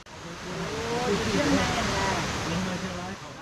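The 60-meter Kuang Si waterfall near Luang Prabang, Laos, roars as a steady, broad rush of falling water, close and constant throughout, with a faint voice underneath.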